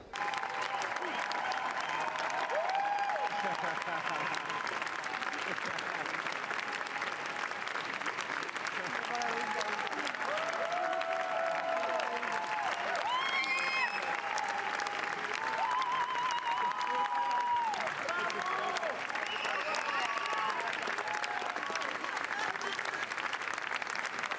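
Standing ovation at a Cannes film premiere: dense, sustained applause from a large crowd that keeps going at an even level throughout, with scattered voices and cheers mixed into the clapping.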